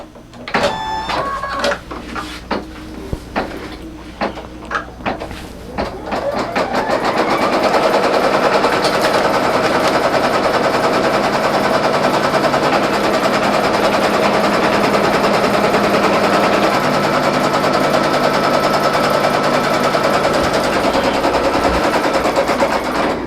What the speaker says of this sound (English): is the Brother VE 2200 single needle machine that we're going to be using today